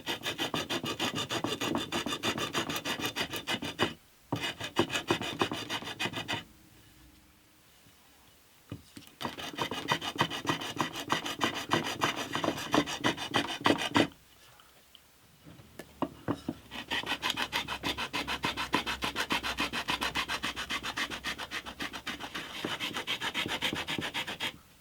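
Hand filing of abalone shell inlay on an acoustic guitar headstock covered with masking tape, a loud rhythmic rasping of quick back-and-forth strokes in bursts, broken by two short pauses, with no speech.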